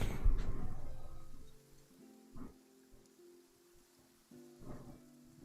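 Rain hisses softly in Genshin Impact, with a rumble of thunder at the start fading into a quiet, steady downpour, while low tonal game music pulses in repeating swells underneath.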